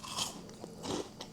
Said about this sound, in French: Quand tu croques à l'intérieur, c'est comme un mélange entre chewy et croquant.